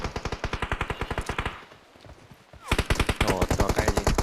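Automatic weapon fire in the mobile battle royale game PUBG Mobile: two fast rhythmic bursts of loud, close shots separated by a brief pause.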